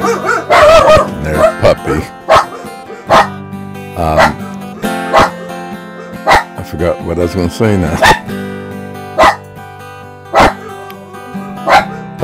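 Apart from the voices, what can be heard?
dog barking in the background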